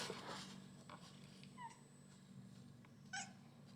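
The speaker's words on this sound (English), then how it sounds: "Farm cats." Farm cats give a few faint, thin meows over a steady low hum, one near the start, one in the middle and one near the end.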